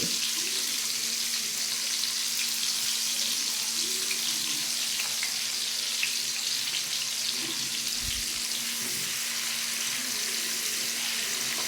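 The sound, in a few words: onions frying in a pan for fish curry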